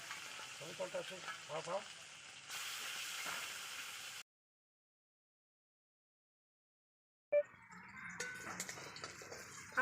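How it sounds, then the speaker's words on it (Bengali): Puti fish fry in hot oil with a steady sizzling hiss that breaks off into a silent gap, then resumes with crackles and light stirring, while a voice talks faintly in places. "এখানে সব মাছ ভাজা হয়ে গেছে"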